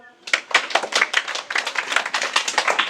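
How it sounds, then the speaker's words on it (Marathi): A run of brisk hand claps, close and sharp, repeating at a quick, fairly even pace for several seconds after a brief spoken word at the start. "कसं टाळ्या वाजवा"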